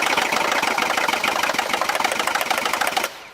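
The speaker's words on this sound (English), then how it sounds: "like at a cold start, the chain rattle." Cold-start idle of a Mercedes C450 engine with timing chain rattle: a dense, busy mechanical clatter runs steady and close for about three seconds, then drops away abruptly near the end.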